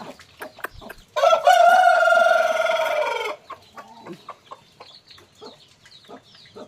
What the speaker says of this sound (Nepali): म चाहिँ भने अहिले फिलहाल कुखुरालाई चारो दिँदैछु